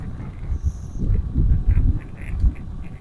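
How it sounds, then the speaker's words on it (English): Geese and goslings honk and call loudly at close range in a rapid, overlapping series, heard outdoors during a recumbent bike ride. "Oh, geese And geeslings."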